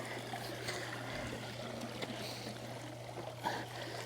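Water trickles and splashes as a Beatbot AquaSense Pro robotic pool cleaner drains at the pool edge, a steady low hum running under the faint, continuous dribbling.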